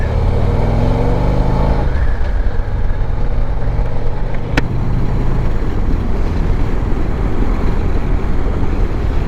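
A Harley-Davidson touring motorcycle rides along in fourth gear at low revs, around 2,000 rpm. Its loud engine rumbles steadily and continuously, close up, with wind noise mixed in.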